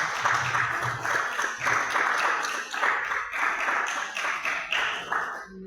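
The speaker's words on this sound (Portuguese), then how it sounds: "e as palmas louvem ao Senhor." A church congregation claps during a Wednesday worship service in pulsing, rhythmic bursts that rise and fall in waves. The clapping stays fairly loud throughout, and a faint voice or music sits underneath.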